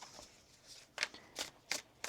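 Tarot cards being shuffled by hand, with a soft riffling texture broken by several crisp, distinct snaps, recorded close and heard alone without talk.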